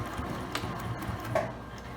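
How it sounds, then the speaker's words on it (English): A home sewing machine back stitches fabric for a scrunchie with elastic attached. It gives a quiet, rapid mechanical whirring and ticking that lasts about two seconds, close and steady, with no talk. "Back stitch a couple of times."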